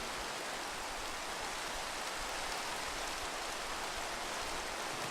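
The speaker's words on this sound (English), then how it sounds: "Thank God it's raining." Continuous Minecraft rainfall, a uniform broadband wash of pattering drops that holds steady from start to end with no voices or other sounds over it.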